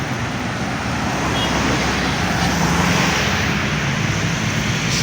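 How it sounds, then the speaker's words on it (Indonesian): A medium MS Wisata tourist bus passes on a road as a loud, continuous broadband engine and tyre roar that swells slightly midway over steady traffic noise. "Bus medium pariwisata. MS Wisata."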